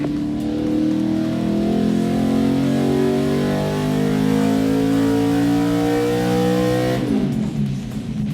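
Race car engine on a chassis dyno revving hard and steadily for about seven seconds, a loud climbing harmonic drone, then dropping off sharply as throttle is released near the end.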